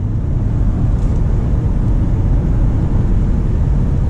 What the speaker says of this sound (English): All right, so we'll accelerate here.